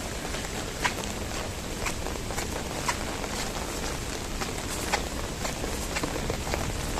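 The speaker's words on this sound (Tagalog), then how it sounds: "Sobrang ulan ngayon" Steady heavy rain hisses all around while someone walks outdoors in a park, with faint, regular footstep thuds and occasional soft knocks under the constant downpour.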